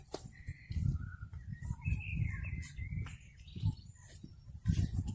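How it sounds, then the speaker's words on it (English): Countryside birdsong in the wild grounds of the South Downs: several birds chirp and warble in overlapping phrases, fairly close and lively, over soft rustling and low outdoor noise. "the bird song is really picking up"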